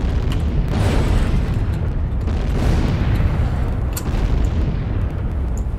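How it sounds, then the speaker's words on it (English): Artillery shells land in a long-range artillery video game, a steady heavy rumble of distant booms and blasts rolling on with no pause, with sharper bursts near the one-second and four-second marks. "we already have rounds coming in direct mode. while rounds are still dropping from indirect mode"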